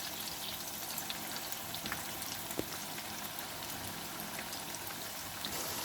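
Mixed pakoras fry in oil, a faint, continuous crackling sizzle with scattered tiny pops, steady throughout.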